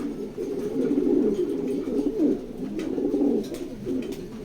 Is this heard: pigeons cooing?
yes